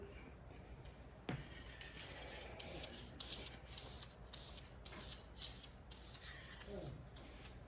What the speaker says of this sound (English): I do have another can of spray paint here by Rust-Oleum